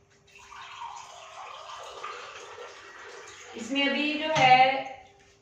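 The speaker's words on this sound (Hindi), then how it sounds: "यहाँ पर हम इसमें 2 गिलास के करीब जो है वो पानी शामिल करेंगे" Water is poured into a pot of moong dal for a home-cooked yellow dal, a soft pouring wash that swells louder near the end and then stops, heard alone.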